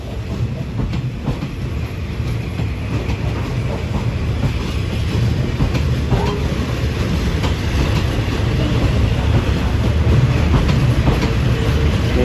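Passenger trains 43 and 448 pull into Surat Thani railway station in Thailand, running well behind schedule. A loud, steady rumble of rolling stock and wheels fills the whole stretch, close by and unbroken.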